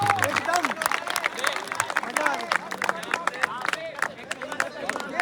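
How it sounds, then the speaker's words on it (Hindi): An audience at a JNU Bait Bazi and mushaira night claps for both teams after the final, a dense, sustained round of applause with scattered louder claps and crowd murmur underneath. "एक बार आप सब भरपूर तालियों का हौसला अफजाई को इस्तेमाल करते हैं"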